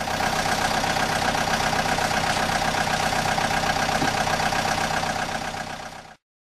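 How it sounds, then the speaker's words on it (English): An excavator engine runs at a steady, loud idle with a throaty knocking rumble, alone and unbroken for about six seconds before cutting off. "Excavator."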